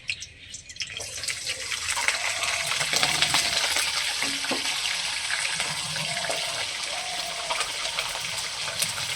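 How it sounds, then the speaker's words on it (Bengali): Potatoes tip into a pan of hot oil with bay leaves and dried chili for a spinach and vegetable ghonto, then get stirred. A steady, close, hissing sizzle runs throughout with faint scraping clicks. "এখন আলুগুলোকে দিয়ে দিচ্ছি"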